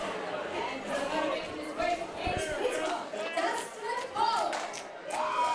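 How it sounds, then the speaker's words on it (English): Bar crowd at a fight night, fans clapping scattered and building, mixed with constant chatter and cheering voices nearby; people talk throughout. "They're starting to get the claps going here, Jason."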